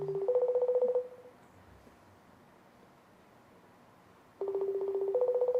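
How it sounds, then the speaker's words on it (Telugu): A phone dials out to place a call: a quick run of electronic keypad beeps, then a stretch of near-silence with faint hiss, then another burst of dialing tones, clear and close. "యువశేఖర్ కొడంగల్ అన్న ఫోన్ లో నుంచి నా అన్వేష్ కి కాల్ చేస్తున్నాం మనం."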